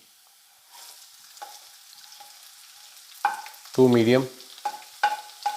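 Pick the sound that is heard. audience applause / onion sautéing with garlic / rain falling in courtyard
onion sautéing with garlic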